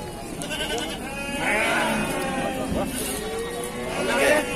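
Several goats bleat over one another at a busy Bumiayu livestock market, the wavering calls rising and falling close by, with crowd chatter and people talking throughout.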